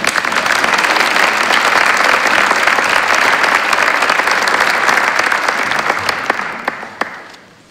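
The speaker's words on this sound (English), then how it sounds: "please give us another rousing applause" A concert audience gives loud, sustained applause after a Latin-American Christmas choral performance, a dense crowd of clapping that carries on evenly before thinning into a few scattered claps and fading out.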